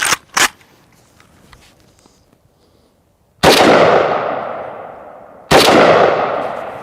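Three loud AK rifle shots firing 7.62x39 FMJ rounds at AR500 steel body armor ring out outdoors, each a sharp crack with a long decaying echo, the first brief and two later shots spaced about two seconds apart.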